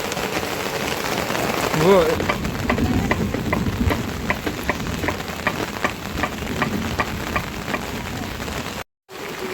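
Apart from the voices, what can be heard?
heavy rain falling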